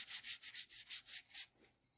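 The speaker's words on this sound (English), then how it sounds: "I'm just going to go ahead and keep going and rubbing it through." Quiet, rhythmic scrubbing as finish is rubbed onto a clay pot for a distressed look, about eight steady back-and-forth strokes close up before they stop.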